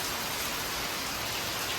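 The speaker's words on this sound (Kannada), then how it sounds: "ಮಳೆ ತೋರಿಸ್ತೇನೆ ಹೇಗೆ ಬರ್ತಾ ಉಂಟು ನೋಡಿ" Heavy rain pours steadily outside a home, a dense, even hiss of drops with no breaks and no voices.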